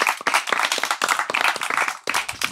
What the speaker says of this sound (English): Can we get a round of applause for Sadhguru, everybody?